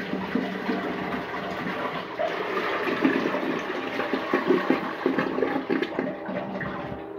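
Household toilet flushing a washcloth during a flush test, a loud close rushing swirl of water that gurgles and drains steadily over several seconds, without speech.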